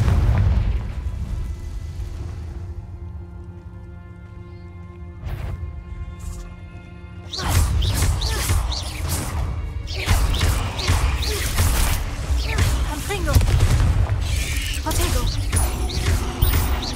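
Confringo spell blast in Hogwarts Legacy, heard as a loud booming burst with crashing debris after a quieter stretch of low ambient hum, with rumbling and clattering effects continuing after it.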